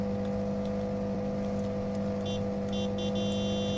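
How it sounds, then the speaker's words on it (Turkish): Cars driving along a street in Truck & Logistics Simulator, a steady engine drone and whir throughout, with a few short high electronic tones near the end and no speech. "Evet arabaları görüyorsunuz, caddeden geçiyor."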